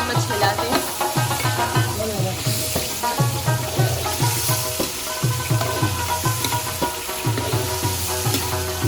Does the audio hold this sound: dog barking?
no